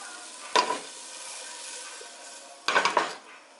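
Onion slices sizzling in a pan for chicken tamales, a soft steady hiss with two brief bursts of stirring and clatter, one early and one near the end, close and without voices.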